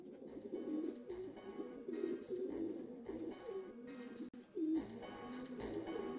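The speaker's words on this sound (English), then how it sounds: "This carrier frequency pigeon possesses top secret information." A carrier pigeon in the Jazzpunk video game coos steadily in low, throaty warbles, repeating over several seconds with one brief break partway through, close and alone without talk.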